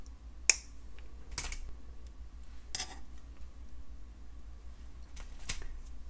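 Wire cutters snip excess jewelry wire while a dainty beaded necklace is assembled, giving one crisp, sharp click followed by a few faint taps and handling clicks in a quiet room.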